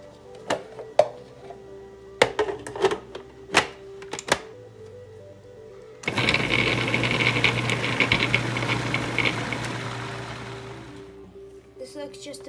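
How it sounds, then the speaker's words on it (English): A few sharp clicks and knocks precede a food processor whirring to life, its blade loudly chopping frozen bananas in a steady grinding roar that slowly eases. "we're going to put them in the food processor to chop them up"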